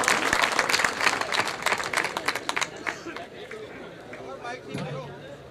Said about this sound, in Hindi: मैं चाहता हूं कि आपकी भरपूर तालियां हमारा साथ भी दें ताकि मुशायरे का माहौल बने